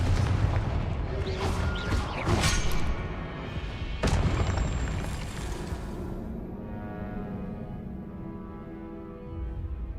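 Confringo spell blasts in Hogwarts Legacy: a series of heavy, booming explosions with crackling debris, several dense bursts in the first seconds and another sharp blast midway, followed by a fading rumble.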